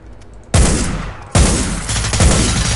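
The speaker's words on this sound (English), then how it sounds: "He's shooting away something chronic" A guard firing a gun in Hitman: Blood Money: two sharp, loud bursts of gunfire with echoing tails, followed by rattling shots, no talk.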